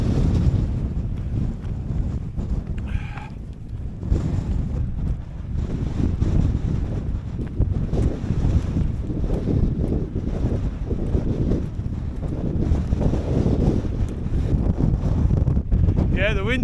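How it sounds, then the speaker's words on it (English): Strong, cold wind rushes across an exposed wild camp above Harrop Tarn in the Lake District, a loud, continuous roar that buffets the microphone without letting up. "Yeah, the wind's certainly up now."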